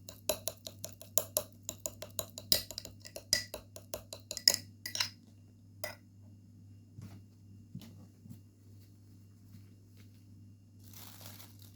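A utensil mashes ingredients in a bowl for a teeth-whitening home remedy, making a quick run of light clinks, taps and crinkly scrapes, then slowing to a few sparse knocks against a quiet hum.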